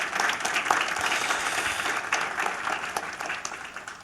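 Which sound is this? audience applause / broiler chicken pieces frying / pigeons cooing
audience applause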